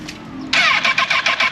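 Kawasaki ZX25R four-cylinder motorcycle engine starts after a brief quiet pause, catching loudly and settling straight into a close, pulsing idle with rhythmic throbs.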